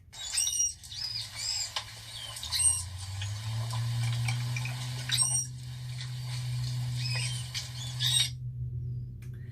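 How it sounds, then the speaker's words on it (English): High, quick squeaks and chirps in irregular bursts over a low underwater hum, with no talking. "manatees can vocalize underwater in a series of squeaks, whistles, and chirps"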